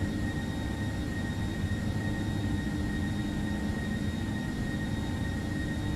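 Steady, even drone of a Boeing 767-332ER jet cruising at flight level 350 in Microsoft Flight Simulator X, a continuous low rumble with faint high tones above it, unbroken and heard alone without voices.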